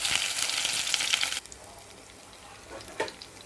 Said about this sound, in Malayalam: നല്ലതുപോലെ പച്ചമണം മാറും വരെ ഒന്ന് വഴറ്റിയെടുക്കുക.